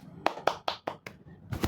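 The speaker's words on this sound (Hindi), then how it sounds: "तालियां बजाइए।" About six sharp hand claps in quick, even succession, close and clear with nothing else around them.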